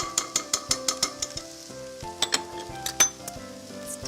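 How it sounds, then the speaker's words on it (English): Tomato paste tossed into a hot pan with flour for a vegan shepherd's pie, with stirring scrapes and light clinks of a utensil against the pan over a soft sizzle, under steady background music. "we're gonna toss in our tomato paste, which always gives it a really nice flavor"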